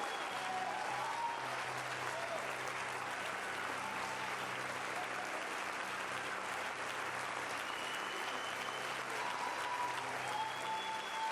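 A standing church congregation applauds in a sustained, even roar of clapping that carries on at full strength for the whole stretch, with no voices rising above it.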